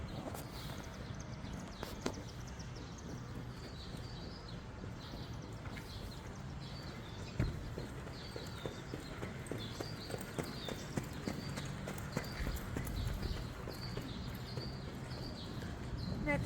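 A horse runs past outdoors on a holiday weekend, its hoofbeats faint and steady against a continuous wash of wind and ambient noise, with a few birds chirping at a distance.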